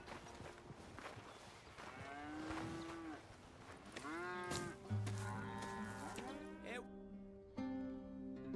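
Cattle in the video game Red Dead Redemption 2 moo several times in long, drawn-out calls that rise and fall, fairly close, with soft footsteps and a low background hum between the calls.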